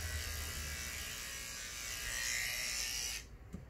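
Electric hair clippers run against a horse's coat with a steady, close buzz that carries on for about three seconds, then cuts off abruptly into quiet.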